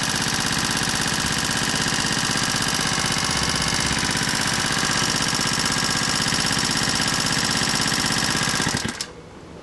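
A small engine fed hydrogen from water electrolysis drones steadily and loudly with a rough, knocking idle, then cuts out abruptly near the end.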